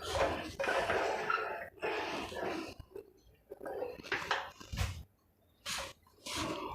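Chicken masala ingredients and salt are mixed and shaken together in a bowl, producing close, irregular clattering and rattling bursts of dishware and utensils with short pauses between them.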